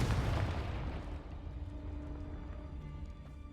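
A Confringo blasting spell explodes in Hogwarts Legacy, opening with a loud, booming burst that rolls into a long rumbling decay and fades to a low hum.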